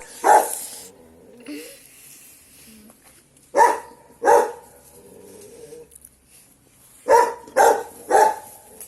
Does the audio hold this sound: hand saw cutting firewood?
no